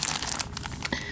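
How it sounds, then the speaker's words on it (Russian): A plastic bag from a dump is unpacked up close, with a string of crisp crinkling and rustling handling sounds, quiet and continuous with no talking. "Давайте вместе это все дело распакуем"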